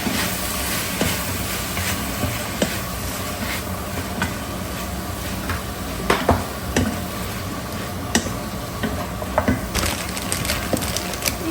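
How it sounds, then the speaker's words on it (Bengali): Chicken frying with cinnamon and cardamom, a steady sizzle with scattered sharp scraping clicks and knocks from stirring in the pan, close and alone. "দারচিনি এলাচ দিয়ে চিকেনটাকে একটু ভেজে নিচ্ছি"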